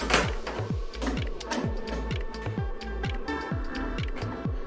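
Wrenches, one 4 and one 10, tightening the bolts on a kart bumper, with a quick regular train of ratcheting clicks close up and faint background hum. There is no talk.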